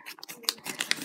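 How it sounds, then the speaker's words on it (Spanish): Scissors snip through something in a short run of crisp, close cuts, three or four sharp strokes with small rustles between, quiet and with no voices. "Unas tijeras"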